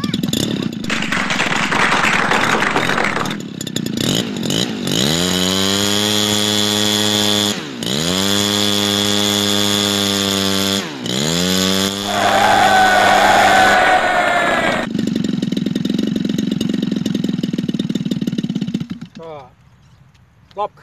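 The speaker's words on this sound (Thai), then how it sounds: "ลองเทสรอบเครื่องดูก่อนครับ" Small 40cc brush cutter engine mounted on a paramotor, test-revved near and loud: repeated rising and falling revs with strong harmonic whine, a sustained high run, then cutting to idle at the end.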